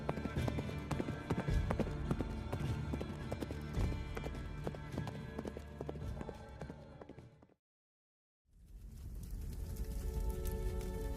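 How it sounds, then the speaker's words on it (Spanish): Horses' hooves clip-clop steadily on the ground as riders head toward flames in a narrated fantasy tale, loud and continuous with a brief silent gap before the hoofbeats resume. "montaron en sus caballos, que volvieron a golpear el suelo con sus cascos en dirección a las llamas"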